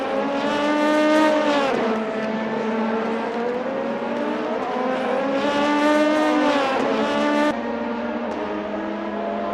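Race car engines in a Le Mans 5 Hours sim race at Autopolis scream loud and steady, with pitch rising and dropping as the cars shift gears. Several cars overlap with no voices.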